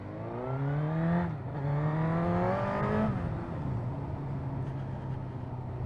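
A Suzuki GSX-R 1000 streetfighter motorcycle revving in low gear, with two or three rising engine sweeps that climb and drop back to a steady idle, close and loud with no talk.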